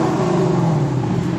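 Lexus RC F with a 5-liter engine and quad-tip exhaust revving steadily, a loud, sustained engine drone with a slowly falling pitch, heard close up with no voices.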